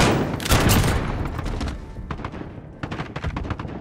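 Video game gunfire from enemy snipers, dense bursts of rapid shots and booms, loud and close at first, then fading before a fresh volley of sharp reports.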